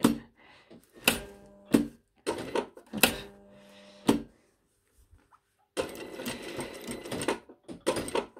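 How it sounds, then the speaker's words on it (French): A sewing machine stitches around a decorative piped pocket in several short, close bursts separated by brief pauses, then runs steadily for a longer stretch near the end, with no talking. "Là, je me fais une petite piqûre autour."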